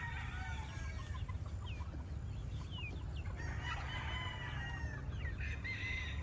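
Chickens and a rooster on a hot-weather farm: steady clucking and chatter from the flock, with crows rising over a constant low rumbling background, moderately near and unbroken throughout.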